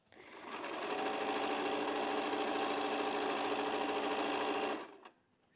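A sewing machine stitches quilt blocks together in one steady run of about four seconds, ramping up smoothly and stopping abruptly, close and alone.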